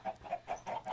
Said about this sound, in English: This is our chicken coop. These are really great chickens.